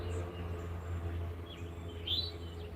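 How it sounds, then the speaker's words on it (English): Birds chirp faintly outdoors on a spring morning, a few short calls over a steady low hum. "And people still get to hear the birds."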